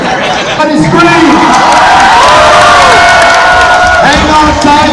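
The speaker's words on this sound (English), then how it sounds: "Everybody scream!" A school crowd of young people in a gym-style assembly screams and cheers loudly and continuously, a dense roar of shouting voices with whoops rising over it.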